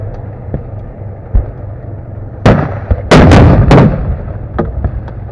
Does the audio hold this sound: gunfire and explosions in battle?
yes